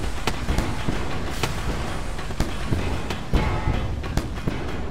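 A drill missile strikes an enemy ship in the space game Wayward Terran Frontier, a crackling, popping barrage of sharp bursts over a steady rumbling roar, with no talk.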